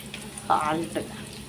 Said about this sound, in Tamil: கருவேப்பிலை போட்டு ஒரு பெரிய வெங்காயம் ஒன்று கட் பண்ணி போட்டு வதக்கிக்கலாம்.